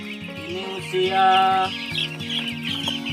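Young mabar-breed chickens about ten days old, kept without electricity or heating, making continuous chirping and peeping calls, close and dense, with a brief voice speaking over them.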